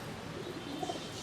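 Soft, low coos from a high-flyer pigeon under a constant background hiss, a few brief murmuring notes close together.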